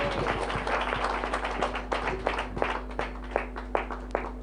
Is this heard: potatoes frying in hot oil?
no